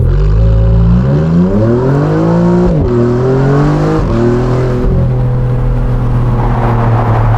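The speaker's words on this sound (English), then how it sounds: "The most exciting aspect of this car is honestly the exhaust." A Novitec-tuned Maserati MC20 Cielo supercar revs hard right up close, its exhaust climbing in pitch, dipping sharply, then surging again with a loud, continuous, rasping roar and no voices.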